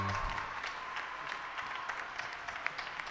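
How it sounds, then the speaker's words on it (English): A theatre audience at the Apollo in New York City gives a round of applause for dancers, a steady, fairly distant wash of many hands clapping that holds at an even level throughout. "Give them a nice round of applause"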